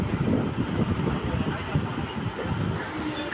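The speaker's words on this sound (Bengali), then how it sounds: "মাঝেরা স্টেশনে গাড়ি ঢুকছে" A local train rumbles steadily close by as it enters a station, a continuous low mechanical roar with faint rattling, like carriages rolling slowly into a platform.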